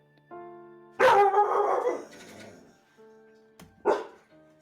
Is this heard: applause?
no